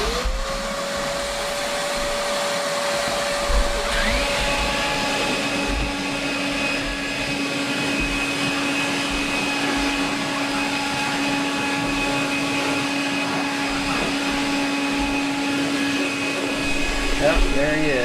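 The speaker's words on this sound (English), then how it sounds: "We just sucked him out with a vacuum cleaner." Vacuum cleaner sucking debris out of a hot tub, a continuous loud whine and roar that holds steady with slight pitch shifts, heard close throughout with no talk.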